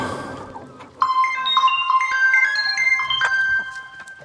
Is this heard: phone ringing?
yes